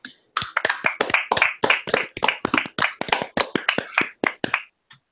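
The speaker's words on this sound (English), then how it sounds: "we're gonna do a golf clap" A small podcast group gives a slow, sparse golf clap: a few people clapping close by in uneven, separate claps for about five seconds, with no talking.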